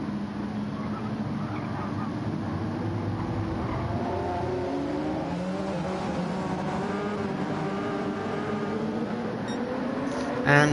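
A field of LMP1 prototype race cars in a racing video game pulls away from the Le Mans start in a dense, steady engine roar, with rising harmonic whines layered over a broad low rumble throughout.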